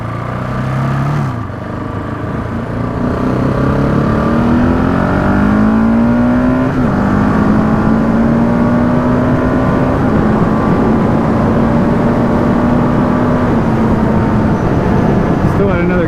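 Husqvarna 701 Enduro motorcycle accelerating hard on a first ride, its single-cylinder engine note climbing steadily through the gears with a brief dip at a shift, heard loud and close from the rider's position against constant wind rush.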